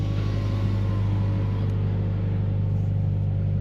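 Loud, close exhaust rumble and turbo whine from a 2016 Subaru WRX fitted with a new downpipe while backing up, a continuous deep drone with faint rising whistle tones over a steady low throb.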